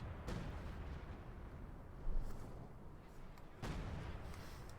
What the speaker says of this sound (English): And artillery called in there to prevent Joe from easily grabbing the point without risking losing a unit